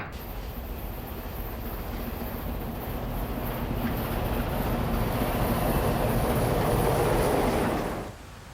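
A Southern Pacific steam-era Daylight passenger train rumbles steadily and grows gradually louder as it pulls away from the station, starting its climb over Cuesta Grade, wheels clattering, before the sound drops off abruptly at the end.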